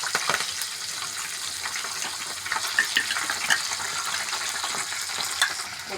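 Green chilies and curry leaves fry in hot oil for a paneer cashew curry, giving a steady, close crackling sizzle with a few sharper pops and no talk.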